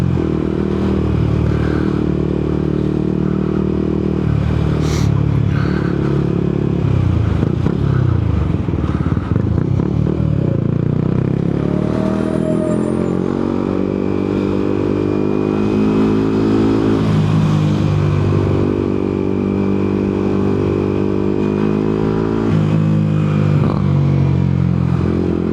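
Yamaha MT-125 motorcycle ridden from the rider's seat, its engine note steady and loud throughout with revs climbing and falling through gear changes, plus wind and mechanical clatter.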